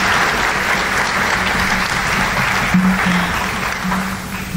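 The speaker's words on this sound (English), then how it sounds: "I just want to give you another round of applause" A school audience at a high school academic awards program gives a sustained round of applause, dense and steady throughout, with a faint tonal hum underneath.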